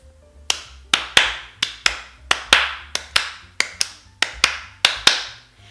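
Hands clap swung quavers in a jazz swing rhythm, about a dozen sharp, close claps in a long-short uneven pattern with no talking.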